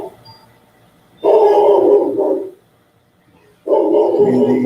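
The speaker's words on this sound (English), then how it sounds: "Now my dog's barking." A pet dog barks indoors in two loud, sustained bursts of rapid barking separated by a short quiet pause, close to the microphone with nothing else audible.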